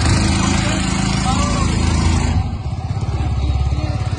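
A self-start bike trolley agricultural goods vehicle engine runs nearby, first a busy churning drone, then a steady pulsing idle thump; someone talks over it.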